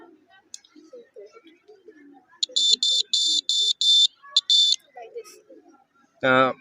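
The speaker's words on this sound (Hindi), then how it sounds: "जब अर्थक्वेक आता है तो ये बजर इसका बजने लगता है" A buzzer on a student-made earthquake detector model at a school science exhibition sounds in a run of sharp, shrill electronic beeps of uneven length, close and loud, with faint talking around it.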